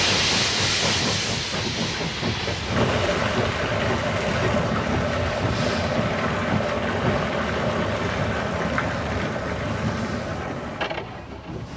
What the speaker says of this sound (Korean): 여기에선 증기기관차를 아직도 사용하고 있다.